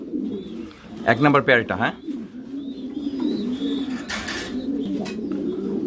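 Blue checker high-category European Lahore pigeons coo softly in low repeated phrases, with a voice talking over them and occasional brief chirps nearby.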